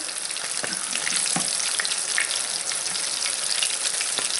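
Chicken pieces frying in a pan for low-carb chicken parm, a loud continuous sizzle with scattered crackles and pops close by.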